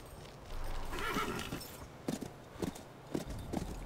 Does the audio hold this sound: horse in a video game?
yes